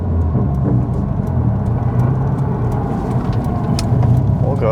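A turbocharged 400 whp Subaru STI running on E85 fuel pulls away, its engine rumbling loud and close with a steady low drone, building slightly near the end, and no talk over it.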